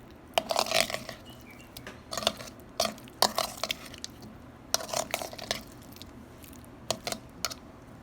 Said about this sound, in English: Add the paneer and mix gently without breaking.